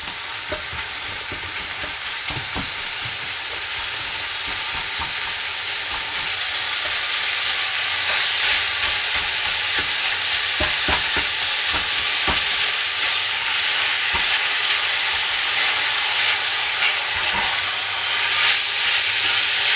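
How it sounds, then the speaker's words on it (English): A pound of ground beef browns in a pan with cooked onion and garlic, giving a loud, steady sizzle broken by repeated scraping stirs of a spatula throughout, with no talking. "We're going to cook until the beef is brown."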